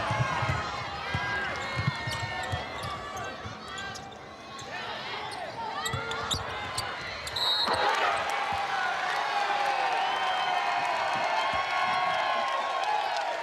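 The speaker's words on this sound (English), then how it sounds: "And the applause of sarcasm coming from the Ponca crowd." A high school crowd at a girls' state basketball championship applauds sarcastically after a disputed foul, scattered clapping and cheering rising in the gym over a commentator's voice and squeaking, bouncing court sounds.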